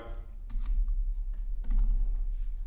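Typing on a computer keyboard to enter an amount: a short burst of close, crisp key clicks in an uneven rhythm over a low background hum.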